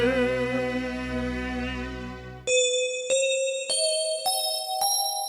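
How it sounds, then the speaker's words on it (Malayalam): A mobile phone ringtone plays, first a sustained synth melody, then a series of bright ascending chime notes, clear and close. "ഓരോ വീട്ടിലും മുഴങ്ങുന്നു മൊബൈൽ ശബ്ദങ്ങൾ"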